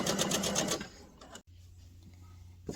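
A sewing machine stitches the side seams of an infinity scarf in a short, rapid burst of rhythmic needle clatter, then stops, leaving quiet room tone.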